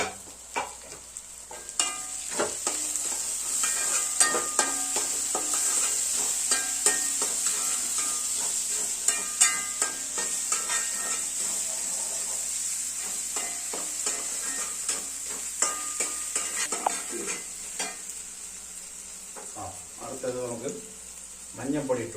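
Chopped tomato sautéing in an oiled pan, with a steady bright sizzle that runs throughout, broken by frequent scraping stirs of a spoon against the pan. The sizzle stays loud and close, and no one speaks over it.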